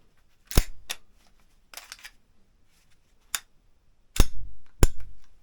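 Sharp, loud blank shots from a 9mm P.A.K. starter pistol: six separate cracks in an irregular rhythm, with two close together near the start and a quick pair toward the end, in a quiet setting.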